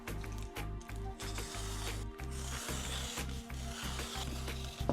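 Cardboard is cut for a craft beehive, a close, dense run of ratcheting, crunching strokes with repeated low pulses, steady throughout.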